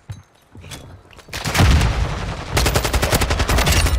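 Video game gunfire crackles close and loud in rapid bursts and sustained automatic volleys, building from a few scattered shots into dense, continuous shooting.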